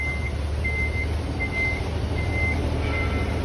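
An Isuzu Gigamax 10-wheeler wing van sounds its reversing alarm, a steady series of five clear beeps at even intervals over a low, rumbling idling engine.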